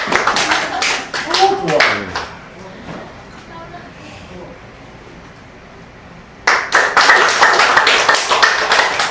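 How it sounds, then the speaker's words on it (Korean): Audience clapping to welcome a speaker at a weekly lecture, dense rhythmic applause that fades into quiet and then swells back loudly. "이 사장님 모시겠습니다. 여러분 박수 주세요."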